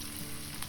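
Razor clam meat frying in a pan with oil and minced garlic, butter going in, giving a steady close sizzle with a faint stir scrape, no talk, under a second long.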